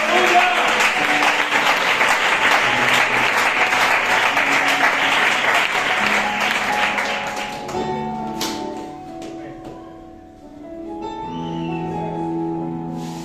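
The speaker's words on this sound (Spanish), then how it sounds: "Dale una fuerte aplauso al Señor" Congregation applauding during a church sermon, a dense, loud wash of clapping that fades after several seconds into quieter sparse claps and murmuring, with faint background music tones continuing.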